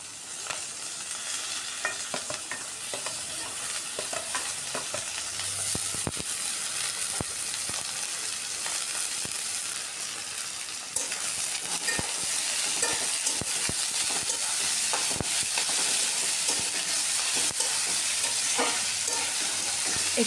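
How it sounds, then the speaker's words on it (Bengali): Chopped potatoes frying with onion in a pan, a dense continuous crackling sizzle heard close up throughout, with intermittent scraping stirs and clinks, growing slightly louder partway through. "একটু লাল করে আলুগুলোকে ভাজতে হবে।"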